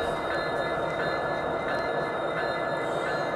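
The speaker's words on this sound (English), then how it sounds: "the locomotives are spotting their coal train under the coal hopper in preparation to fill the cars." G scale model locomotives slowly move a coal train beneath a coal hopper, producing a steady close rolling hum and rumble with faint wheel squeal throughout the short stretch, with no voices.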